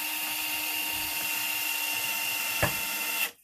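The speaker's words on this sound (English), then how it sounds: "making sure the drill is tight, and drill down into the wood, and keeping it spinning" A power drill turns a 3mm bit into wood, giving a steady high whine that holds evenly for a few seconds, with a brief knock near the end before it cuts off abruptly.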